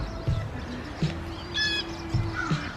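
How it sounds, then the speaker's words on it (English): Birds at backyard feeders chirp and call in short repeated notes, a few sharper squawks and a sustained whistle mixed in, moderately close against quiet outdoor background. "The birds waited long enough for me to shut the door before they started swarming the feeders."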